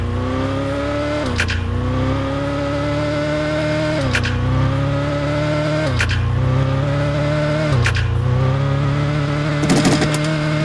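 Car engine in a video game race revs up repeatedly, rising in pitch and then dropping back at each gear change, loud and continuous with no talk.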